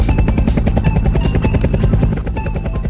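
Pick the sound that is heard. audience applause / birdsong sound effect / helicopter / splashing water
helicopter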